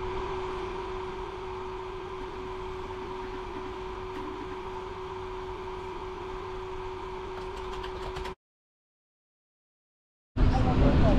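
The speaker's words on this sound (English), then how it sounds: "give you an idea of what the fan noise will sound like with this setup." A small homemade cooling fan on a GoPro Hero 10 runs in a quiet room, giving a steady, faint whir with a constant hum. It goes silent for a couple of seconds, then a louder rush of noise starts.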